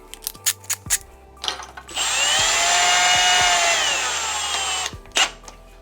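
A cordless power drill spins a socket on a bolt, a steady whirring burst of about three seconds following several short clicks and taps, close and fairly loud.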